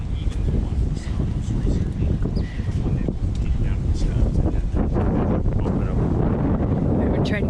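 Strong wind buffets a sailboat near Dana Point in continuous gusts. The wind roars heavily against the microphone, with water and boat sounds blended underneath.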